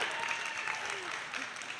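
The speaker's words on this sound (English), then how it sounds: "Guys, can you clap, please, for our game?" Studio audience applause at a podcast taping, a steady dense wash of clapping filling the whole moment at moderate level, with faint voices murmuring underneath.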